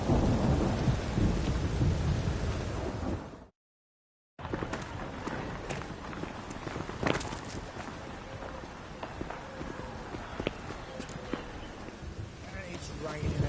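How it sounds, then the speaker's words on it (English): Heavy rain and rumbling thunder in The Witcher 3 around Novigrad, a loud wash of downpour that cuts out briefly, then lighter steady rain with scattered sharp cracks and soft thuds. "It's raining again."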